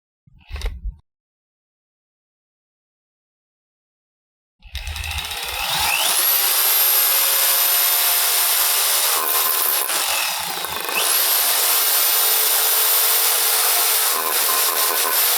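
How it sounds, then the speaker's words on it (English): After two short bursts and a pause, a hammer drill grinds steadily and loudly into masonry pavers, continuing without letup. "Usually you want drill and hammer if you're going through concrete or pavers."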